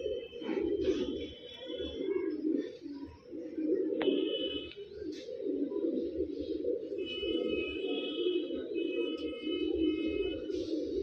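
Soft, low cooing of pigeons repeating throughout, with a few thin high chirps and tones scattered over it, fairly close and otherwise quiet.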